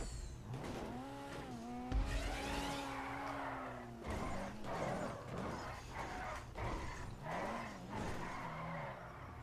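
Vehicle skidding in a parkour video game, tire squeal rising and sliding through the first seconds, then choppy engine and skid noise with a loud bump near two seconds, sustained and close.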